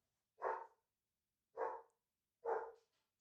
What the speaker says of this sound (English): the dog's going to bark because I'm talking